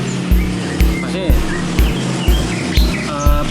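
An oriental magpie-robin, a kacer, sings in short chirps and whistled phrases at a bird-breeding setting. The song sits over a loud, regular thumping pulse roughly every half second.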